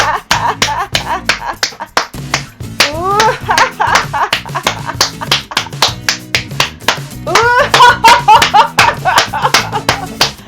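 A group claps hands in a fast, steady rhythm during a laughter exercise session at Boramae Park, with bursts of laughter rising over the clapping twice.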